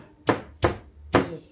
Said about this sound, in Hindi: इसको मिक्सी में नहीं पीसना है, सिलबट्टे में ही पीसना है